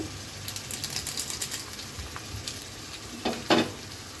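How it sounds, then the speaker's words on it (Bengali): Boiled vegetables are stir-fried in a pan for vegetable noodles. A loud, close sizzle runs throughout, broken by scraping stirs, with a sharper scrape near the end. "আমার এইভাবে ভেজিটেবলটা ভেজে রান্না করতে ভালো লাগে"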